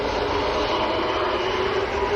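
An EasyJet Airbus A321neo airliner at Manchester Airport produces a steady, broad jet roar that stays fairly distant and even throughout.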